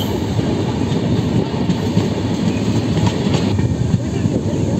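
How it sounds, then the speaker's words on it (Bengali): Garba Express passenger train passing Fatehpur Sikri station, a loud continuous rumble of railcars with rhythmic clickety-clack of wheels on track, heard close and sustained. "আমাদের গাড়ওয়া এক্সপ্রেস এখন ফতেপুর সিকরি পেরোচ্ছে।"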